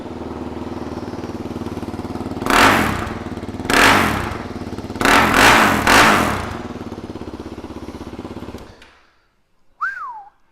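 A 2014 KTM Duke 390 ABS single-cylinder motorcycle with a loud baffled aftermarket exhaust idles close by, then revs sharply three times in quick succession before cutting off, followed by a brief whistle.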